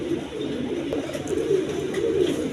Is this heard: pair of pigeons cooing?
yes